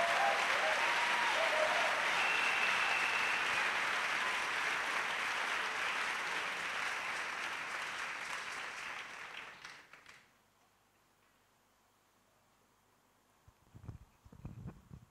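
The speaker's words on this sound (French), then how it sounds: "Let's clap to Jesus Christ." A church congregation claps for Jesus Christ in a loud, full burst for about ten seconds, then stops abruptly, leaving near silence with a few faint stirrings at the end.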